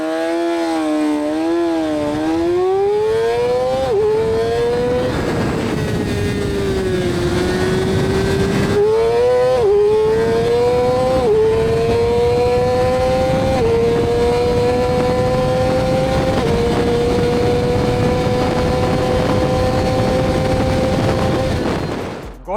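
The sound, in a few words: 2024 Yamaha R6 motorcycle accelerating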